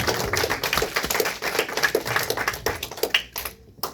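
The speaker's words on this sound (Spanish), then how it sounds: "Denle un aplauso a Cristo." A church congregation applauds with fairly rhythmic, crowded clapping that carries on for several seconds and thins out near the end.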